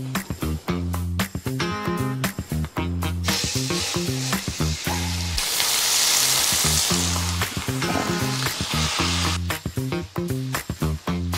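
Food fries in a pan with a steady, loud sizzle that swells toward the middle, alongside rhythmic tonal background sounds throughout.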